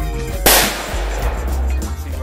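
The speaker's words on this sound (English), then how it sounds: "this next shot is with the 300 grain hollow point" A single sharp, loud gunshot from a .44 Magnum firing a 300 grain hollow point round, a sudden crack followed by a brief decaying outdoor echo.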